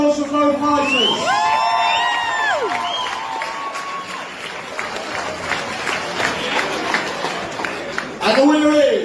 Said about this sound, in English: Massive round of applause for both fighters.